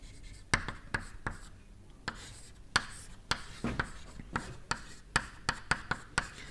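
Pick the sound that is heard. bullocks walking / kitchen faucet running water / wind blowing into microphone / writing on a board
writing on a board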